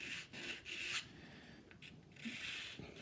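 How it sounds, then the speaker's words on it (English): Rhythmic rasping strokes of a hard sanding board rubbing across a 1/32 scale plastic Heinkel He111 model, several back-and-forth passes, close and fairly quiet. "so we're sanding it nice and flat and even"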